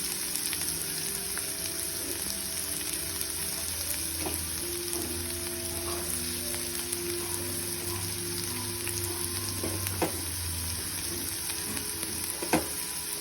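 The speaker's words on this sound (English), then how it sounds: "Let the onion fry until it reaches slight brownish color." Chopped onion fries in hot oil with a steady, dense sizzle throughout, broken by a few faint clinks and scrapes of stirring; no one speaks over it.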